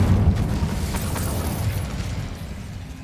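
A fire spell in Hogwarts Legacy bursts with a loud, deep whooshing boom that rolls and slowly fades over about three seconds, close and without voices.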